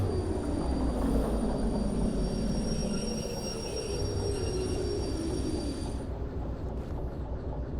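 A locomotive in the railway simulation game Derail Valley brakes to a halt. A steady, loud rumble of rolling wheels carries a sustained high metallic squeal that runs for several seconds and then cuts off near the end, with no voices.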